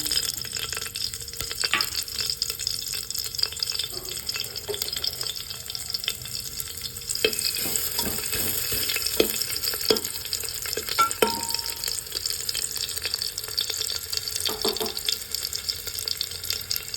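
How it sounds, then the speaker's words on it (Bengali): Onions and dried red chillies frying in hot oil, a steady close sizzle running throughout with scattered stirring clinks and scrapes, with no one talking. "দুটো শুকনো লঙ্কা দিয়ে দিলাম, তেলের মধ্যে লাল হয়ে হোক। পেঁয়াজ দিয়ে দিলাম"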